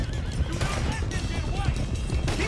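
A horse in the video game Red Dead Redemption 2 whinnies over a loud, dense mix of hoofbeats and game noise while someone talks.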